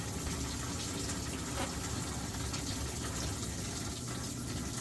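Water rushes steadily through an RV washing machine drain line, a continuous loud gushing flow with no pauses and no voices.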